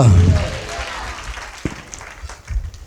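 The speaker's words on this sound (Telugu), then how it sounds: "అందరూ చప్పట్లు కొడదామా గట్టిగా?" A church congregation claps loudly and joyfully during a Sunday service, a dense burst of applause that follows a brief low voice and gradually thins out and fades over a few seconds.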